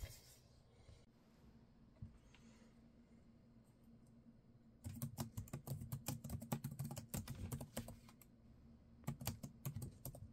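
Quiet room tone gives way to steady, fast typing on a computer keyboard as someone writes a passage of text, dense clicking runs broken by a short pause before a final burst.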